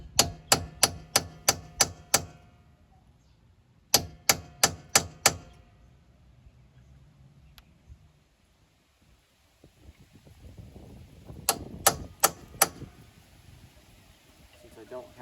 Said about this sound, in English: take this chisel and split the axle seal